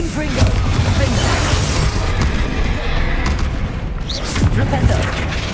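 Explosion from the Confringo blasting curse in Hogwarts Legacy, a heavy rumbling boom amid dense, continuous battle noise with voices over it.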